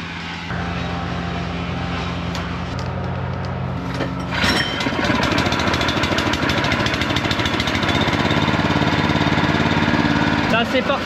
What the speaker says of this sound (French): On va démarrer le motoculteur, c'est parti.